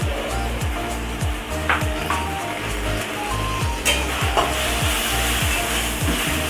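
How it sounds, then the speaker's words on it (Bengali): Turmeric and salt sauté in a pan for Bengali chicken curry with a steady, loud frying sizzle and recurring stirring scrapes throughout; no voices. "দিয়ে একটু ভালো করে কষিয়ে নিচ্ছি।"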